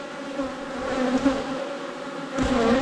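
Bee buzzing near an apiary hive during end-of-season work, a steady droning hum throughout with a louder swell near the end, close by and alone with no talk.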